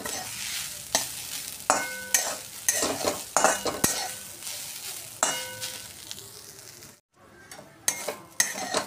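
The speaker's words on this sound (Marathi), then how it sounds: "खोबरं एक 2-3 मिनिटं परतवल्यानंतर त्यातलं मॉइश्चर कमी झालेलं आहे।" Grated coconut being stirred and roasted in ghee in a pan for karanji filling, with a steady soft sizzle under repeated scraping and clinking strokes of a spoon against the pan, a brief quiet gap near the end.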